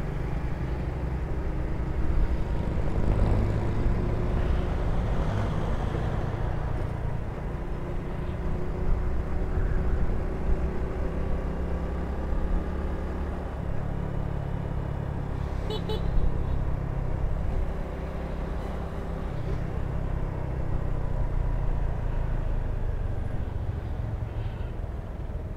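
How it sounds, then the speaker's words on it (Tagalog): Heavy afternoon road traffic in the Philippines, a steady close rumble of car and motorcycle engines with occasional short horn toots, continuous throughout. "Ito, traffic na naman. Dito talaga pag mga alas 3, alas 4, grabe yung traffic dito mga pare ko eh."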